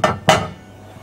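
A serving plate set down on a surface in a kitchen while cake layers with raspberry jam filling are being assembled: two quick, close, sharp clinks about a quarter second apart, each ringing briefly before fading.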